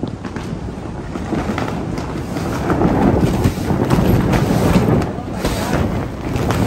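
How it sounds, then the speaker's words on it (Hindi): Strong wind blowing outdoors on the way to Petra: a loud continuous roar and buffeting against the microphone, surging stronger in the middle, with voices faintly beneath it. "कमाल की हवा चल रही है"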